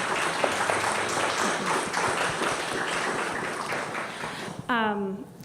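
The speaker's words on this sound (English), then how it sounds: "If I could just have a quick round of applause for the amazing leadership at here" An audience gives a round of applause at a community leadership gathering, a steady broadband clapping sustained for about four and a half seconds before a voice briefly speaks near the end.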